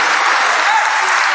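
A short burst of loud, dense audience applause at a stand-up comedy show, continuous clapping from a large crowd.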